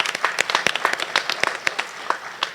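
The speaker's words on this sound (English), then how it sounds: "Let's give them a round of applause." At a sports hall of fame event, an audience applauds the corporate sponsors with a burst of loud, close, rapid overlapping claps that continues unevenly and thins slightly toward the end.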